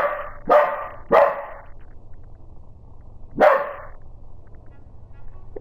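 Indoors, a dog lets out two quick barks in succession, then a single bark a couple of seconds later, each loud and close against a quiet background.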